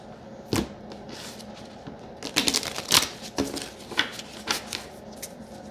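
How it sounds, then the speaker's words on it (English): Deck of cards being shuffled by hand, several quick riffling bursts and snaps in close succession, near and fairly loud, with no talk. "Do I need to go back and shuffle again?"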